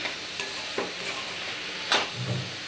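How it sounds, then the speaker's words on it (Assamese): A coconut milk mixture for Assamese til pitha frying in a pan, a soft continuous sizzle punctuated by a few stirring scrapes and clinks. "এতিয়া এইখিনি মই ভালদৰে ভাজি ল'ম।"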